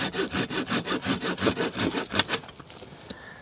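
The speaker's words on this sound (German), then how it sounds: "Säge den Ast jetzt mal ab hier." A hand saw cuts through an old, rotten branch laid over a decaying tree trunk outdoors, with about fifteen rapid, even rasping strokes that stop abruptly near the end.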